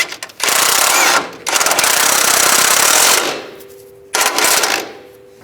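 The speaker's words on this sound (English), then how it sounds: "Now we can tighten the lower bolt." Impact wrench tightening the lower control arm bolt on a 2005-15 Nissan Xterra: loud close rattling bursts, a long run then a pause, a quieter hum, and one more short burst.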